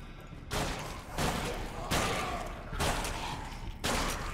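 A gunshot in the zombie video game Deadlight sounds as a series of dull, muffled thuds at intervals under game ambience, fairly quiet overall.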